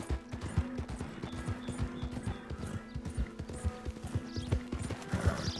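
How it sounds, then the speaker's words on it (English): Horse hooves clip-clopping in a steady galloping rhythm during Red Dead Redemption 2 gameplay, loud and continuous, with an occasional faint whinny and game ambience underneath. "It's like, I gotta travel so far on a horse."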